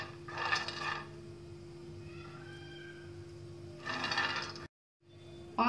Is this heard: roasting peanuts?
yes